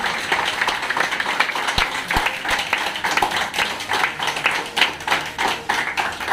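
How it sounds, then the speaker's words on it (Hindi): Dense crowd applause welcomes a sales executive award winner at a Delcon Homes company award ceremony, a steady wash of many hands clapping close by for several seconds. "तो जोरदार ताली से स्वागत किया जाए हमारे राहुल को"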